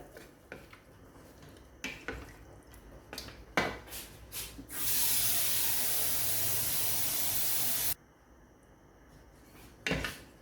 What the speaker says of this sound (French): J'ajoute l'eau, 1 litre d'eau ou 1 litre et demi à peu près pour faire cuire notre viande